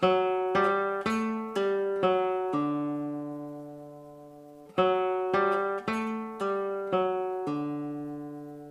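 Solo guitar plays section A of a Granadinas piece, with two phrases of plucked notes and pull-offs. Each phrase ends on a sustained ringing chord that fades, and the playing is clear and close with no talk.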